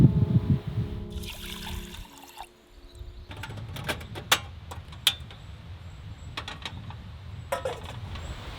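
One cup of water is poured over washed rice in a pot during a car-camping meal, a short gush followed by quieter trickling and scattered small drips and taps.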